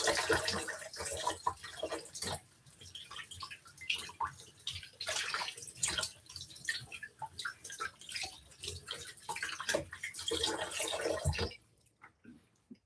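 Dishes are washed under running tap water in a home kitchen: a faint steady splash with clinks and drips for about eleven seconds, then the flow stops and near silence follows.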